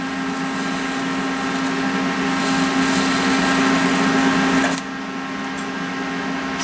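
A TIG welding arc buzzes steadily while joining small parts for a toy cannon, a constant close-up hiss with an even hum. It cuts off abruptly near the end, leaving quieter room noise.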